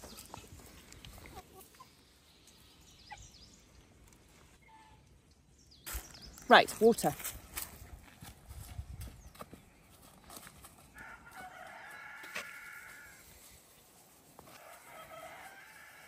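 Hens cluck and a rooster calls out nearby on a farm in Portugal, with scattered farmyard noises and brief talking in between.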